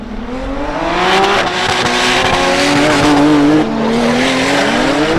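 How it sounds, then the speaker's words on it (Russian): A BMW E46 with an S50B32 engine making 540 hp and a Lexus IS with a 2GZ engine launch into a drift battle at a Ryazan motorsport complex, engines screaming loud and near with rising revs and tire squeal. "Это у нас на старте Аркадий Пучинин из Санкт-Петербурга на Е46 BMW с мотором S50B32, 540 сил."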